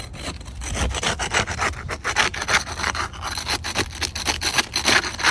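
Scraping under a damaged asphalt roof shingle with a ripped tab and heavy granule loss, a steady gritty rubbing that rasps back and forth in close, repeated strokes.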